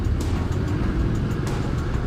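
Road traffic in Quezon City with cars bunching up in a jam, a continuous low rumble of engines and tires, steady and fairly loud, with faint passing swishes and no talk.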